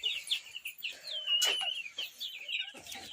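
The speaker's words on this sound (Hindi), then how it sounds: "एबे कुकुड़ा मानन को दाना दे देबा खाइबा पई।" Chickens on a poultry farm cluck and chirp at a moderate distance, in busy overlapping calls with one brief louder squawk in the middle.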